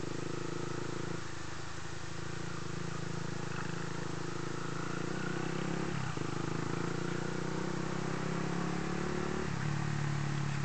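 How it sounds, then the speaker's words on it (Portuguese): A motorcycle exhaust rumbles steadily while riding along a city street in Divinópolis, Minas Gerais, a continuous low engine drone with slight pitch shifts and no one talking. "O escapamento está roncando demais"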